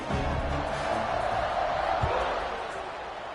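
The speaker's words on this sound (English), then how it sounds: "this crowd is buzzing after that last score" A BYU football stadium crowd buzzes after a score as the kickoff nears: a loud, steady roar of many voices that holds for several seconds and eases slightly at the end.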